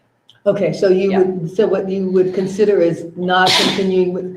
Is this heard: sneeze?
yes